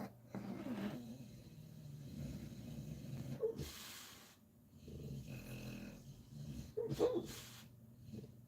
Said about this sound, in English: I think the dog's having a dream.